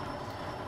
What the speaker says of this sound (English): I'm just going to shut the engine off real quick so we can hear.